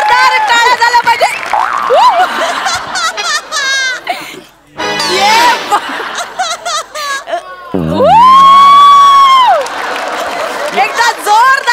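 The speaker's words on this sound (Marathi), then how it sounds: "एकदा जोरदार टाळ्या झाल्या पाहिजे" Audience at a live Marathi comedy stage show claps and cheers in bursts, with whistles and shouts mixed among voices, and a loud sustained tonal whoop late in the stretch.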